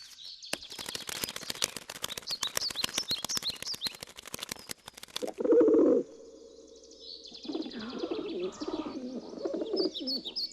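A pigeon coos in low, rounded calls midway through a film scene, following a stretch of rapid clicking and chirping, fairly close and without speech.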